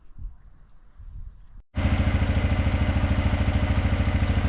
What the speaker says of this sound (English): This is it idling with the carbs balanced at about the right rate.